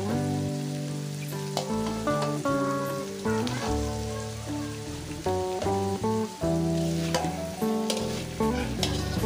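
Noodles sizzle and get stirred in a pan with egg and sliced meatballs for Indonesian mie goreng, a steady frying hiss with scraping strokes under background music.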